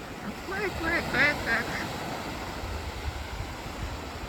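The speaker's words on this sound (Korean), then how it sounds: "안녕 갈매기들아 갈매기들아 한 마리 빼고 다 살금살금 도망갔어." Seagulls at a rainy Taean beach campsite give a short run of squawking, honking calls, a few close together, over steady rain and wind noise, then fade into the background hiss.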